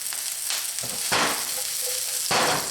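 Garlic and carrots stir-frying in a pan, a steady close sizzle broken by several louder bursts of crackling as the vegetables are tossed and stirred.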